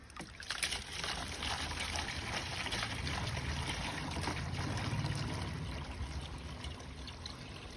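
Water pours into a liquid fertilizer mix in a container, making a steady, close splashing gush that lasts throughout and eases slightly toward the end, with no talking.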